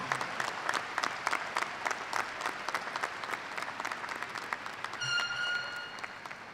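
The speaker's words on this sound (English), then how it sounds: "Let's give a round of applause for everyone who helped make this a special occasion to remember" A commencement crowd at the University of Toledo's Fall 2023 morning ceremony claps steadily, with dense overlapping hand claps filling the hall and a brief sustained tone rising near the end.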